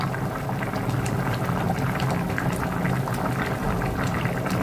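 A pot of curry simmering on the stove, a steady dense bubbling and burbling that stays even and fairly close throughout.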